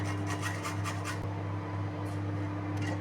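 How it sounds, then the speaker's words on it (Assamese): Fresh ginger rubbed against a kitchen grater in quick rasping strokes, a run of scratchy scrapes for about a second before it trails into quiet kitchen background hum. "চাইডৰ পৰা অকণমান আদা চিলাই পেলাই গ্ৰেট কৰি"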